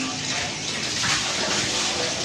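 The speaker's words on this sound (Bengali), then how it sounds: "বাইরেটা পুরো ধুয়ে, তারপর ভেতরটা যতটা ভালোভাবে পারা যাবে ততটা ভালোভাবেই" Water splashes and swishes steadily as the inside of a vessel is rinsed out, a continuous close gush with no clear pauses.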